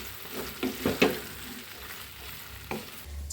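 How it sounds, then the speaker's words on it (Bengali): Taki fish is stirred in spices and oil in a pan, frying without water, with soft scraping strokes and a few louder spoon knocks over a low sizzle, close and fairly quiet. "মশলার সাথে মিক্সচার করে নাড়াচাড়া করতেই থাকবো। কোনো পানি দিব না, কিন্তু মশলা আর তেলের সাথে এটা একটু ভাজা ভাজা হবে"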